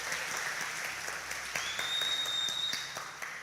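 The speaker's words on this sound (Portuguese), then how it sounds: "Dê uma salva de palmas ao nosso Deus." A church congregation applauds during an online worship service, a continuous wash of clapping with a thin electronic whistle tone sliding in partway through, heard at moderate distance.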